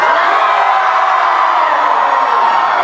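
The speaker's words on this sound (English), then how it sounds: "The crowd roars." A large crowd roars at a trial in an Invader Zim scene, a dense, steady wall of cheering and shouting that holds at full volume throughout without pause.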